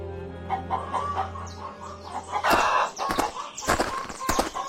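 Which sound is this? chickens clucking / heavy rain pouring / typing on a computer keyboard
chickens clucking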